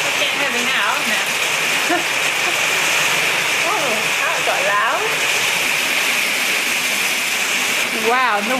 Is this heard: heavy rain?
yes